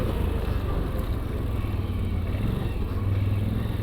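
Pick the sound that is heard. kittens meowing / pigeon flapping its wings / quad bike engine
quad bike engine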